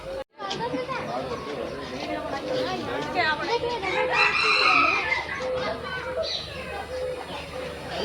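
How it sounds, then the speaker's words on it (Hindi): A chicken at Delhi Zoo gives clucking, crowing-like calls in the open, heard close and mixed with people chatting throughout. "मुर्गी भी दिख गई।"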